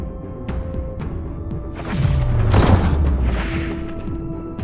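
Underwater shooting in the video game Dave the Diver, heard as deep booming shots and a swelling thump over a steady game soundscape with music.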